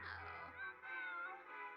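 A cat meows repeatedly in The Sims 4, a few drawn-out, close meows in quick succession with no talk over them.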